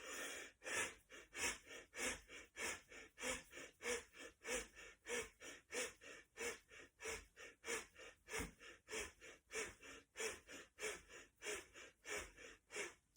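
Rapid, rhythmic deep breathing during a breathing exercise, about two dozen quick forceful inhale-exhale cycles in a steady pulse, close and alone.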